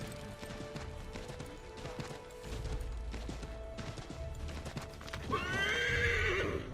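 A horse gallops in Assassin's Creed 3, hooves pounding in a fast steady rhythm up close, then near the end the horse lets out a loud, rising whinny.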